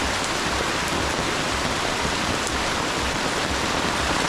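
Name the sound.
heavy rain during flooding in the Philippines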